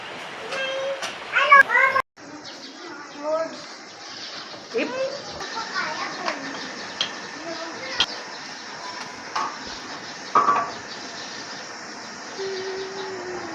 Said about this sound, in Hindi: बच्चा शोर करते हैं